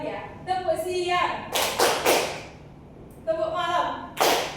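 A class plays a rhythmic clapping game, with bursts of sharp group claps alternating with a teacher's chanted voice calling out the pattern in a classroom.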